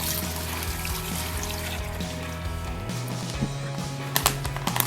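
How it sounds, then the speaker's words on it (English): Curing brine poured over a pork loin inside a Ziploc bag, a quiet continuous trickle and splash with a few soft plastic crinkles and taps toward the end. "Then we're just going to take our curing brine, and we're going to begin to pour it in"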